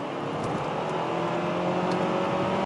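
Steady engine drone and road roar from inside a Hyundai Avante Sport driven in sport mode along a winding road, continuous and fairly loud, with no one speaking.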